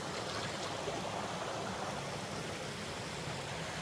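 A riverside stream flows steadily in a forest, a continuous broadband rush of water that stays even and fairly near throughout, with no voices.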